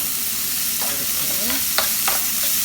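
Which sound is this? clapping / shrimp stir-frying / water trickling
shrimp stir-frying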